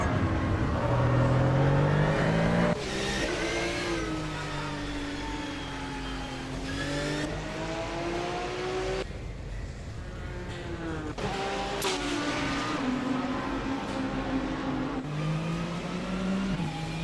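Race car engines roar continuously in a racing video game, with rising and falling revs and gear shifts from several cars, loud and steady throughout.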